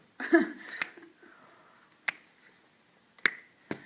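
Several sharp finger snaps, or knuckle pops, ring out during a stretch of the fingers: a louder cluster at the start, then isolated crisp cracks spaced about a second apart, close and clear against quiet.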